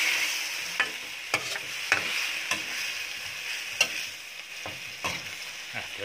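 Pork bones dry-roasting in a pan with chili paste for a Thai pork-bone curry, a steady soft sizzle broken by sharp scraping stirs at irregular intervals, close by with no voices.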